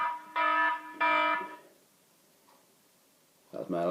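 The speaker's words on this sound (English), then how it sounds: "That was my alarm to get up and have some breakfast" A wake-up alarm sounds in two loud, harmonic bursts, each about half a second long, followed by quiet and then a third burst that starts near the end.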